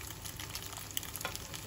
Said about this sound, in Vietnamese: chiên nhỏ lửa